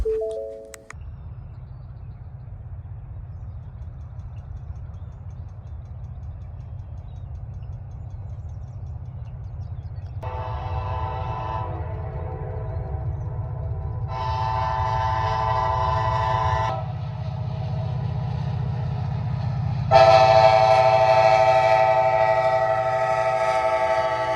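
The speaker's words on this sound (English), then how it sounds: "so we got a train passing" A train rumbles past with a steady low roar that builds over time, punctuated by several loud, sustained horn blasts, the last the loudest, with no talk.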